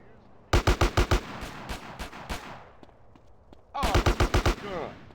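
Gunfire in the video game GTA San Andreas: a fast burst of five or six loud shots, scattered single rounds and fainter pops, then another rapid burst, with a voice mixed in.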